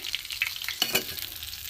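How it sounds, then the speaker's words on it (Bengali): Bata fish chops fry crisp in hot oil, a loud close bubbling sizzle with stirring, continuous throughout and without talk. "ভাজা লাল করে তুলে ভেজেছি মচমচে করে একদম"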